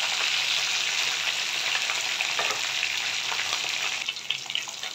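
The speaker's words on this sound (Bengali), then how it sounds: "একটু লাল লাল করে ভেজে নেব" Rohu fish frying in hot oil in a pan until reddish-brown, giving a loud, steady, crackling sizzle that continues without pause and with no talking.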